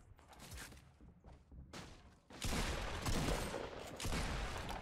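Video game gunfire from Fortnite Battle Royale: a run of sharp shots and bursts, loud and close, building into a sustained rapid volley in the second half with no talk.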